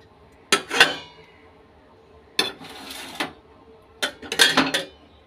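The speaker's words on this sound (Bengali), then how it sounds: "মশলাটা দিয়ে আমি হাত দিয়ে নাড়বো না, চামচ দিয়ে নেড়ে তারপরে কড়াইয়ের মধ্যে বসিয়ে দেবো" A metal spoon scrapes and clanks against a wok while stirring spice, heard as three close, loud bursts of clattering with quiet pauses between them.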